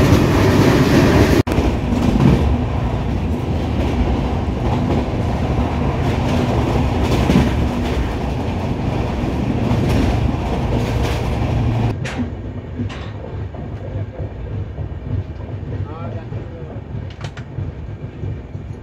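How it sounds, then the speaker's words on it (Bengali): Utkal Express rolling into a station, a loud, steady rumble of rail cars for about twelve seconds that then eases off into quieter, thinner noise as the train slows. "আমাদের উৎকল এক্সপ্রেস এখানে এসে পৌঁছালো 43 মিনিট লেটে"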